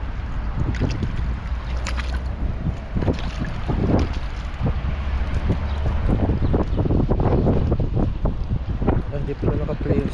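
Strong wind buffets a small fishing boat at sea, a constant loud roar of wind noise with water sloshing and occasional knocks and clatter from the boat.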